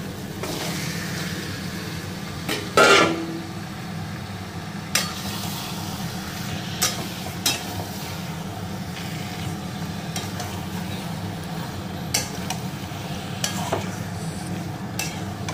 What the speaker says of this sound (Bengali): এখন আমি চিকেনটা দিয়ে দিচ্ছি।